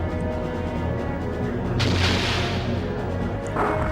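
A sub-cannon fires during a Skies of Arcadia airship battle: a heavy booming blast about halfway through, then a shorter burst near the end, both over steady game music.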